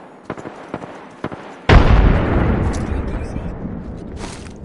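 A frag grenade blasts in the Apex Legends video game, a sudden loud boom with a long rumbling decay, preceded by a few sharp clicks and brief in-game voice callouts.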